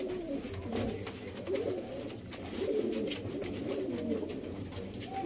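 Sialkoti Ali Wale pigeons cooing in low, repeated throaty coos, fairly near and steady over a busy background of other birds.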